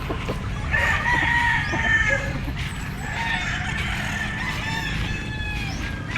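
Several gamefowl chickens and roosters at a game farm crow and cluck in overlapping calls, some near and some farther off, over a steady outdoor background with no talk.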